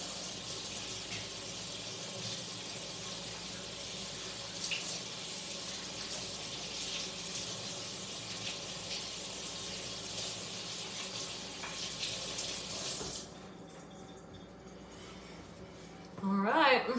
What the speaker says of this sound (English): All right, rinse off time.